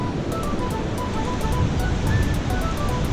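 A small waterfall splashes beside the Yamuna river on the stepped, cemented Yamunotri trail, giving a steady, dense roar of rushing water that stays loud and unbroken throughout.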